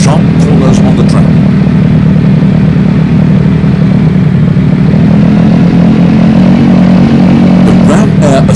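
A TVS Apache motorcycle with Ram Air Assist runs at high RPM, producing a loud, constant engine drone with a buzzing, gritty tone that holds steady throughout.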